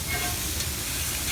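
Fajita vegetables sizzling loudly in a hot pan, a steady broad hiss with a soft shuffle as tongs turn them over.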